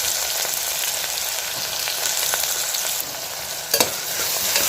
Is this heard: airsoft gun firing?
no